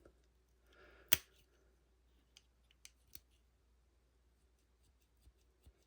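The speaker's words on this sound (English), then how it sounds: "A lot of people like to see how these scissors function and operate" Small scissors on an original Leatherman Wave multitool, rusted, snipping and clicking: one sharp loud snap followed by several faint ticks and clicks spaced apart in a quiet room.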